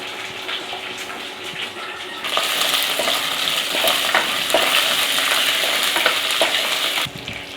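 Cumin seeds and curry leaves splutter in hot oil, a faint crackle that swells into a louder, dense sizzle partway through and then drops away near the end.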